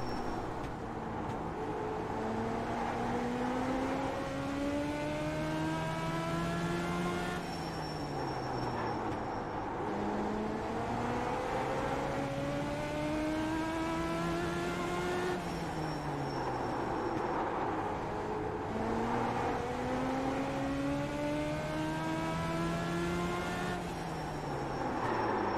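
Race car engine in the iRacing sim during an eNASCAR Ignite Series 2019 qualifying lap at Charlotte, a loud continuous drone with repeated rising upshift sweeps and downshifts through corners, steady throughout with no talk.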